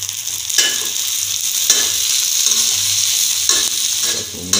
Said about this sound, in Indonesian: Kita tumis ya sampai semua aromanya itu naik ya guys.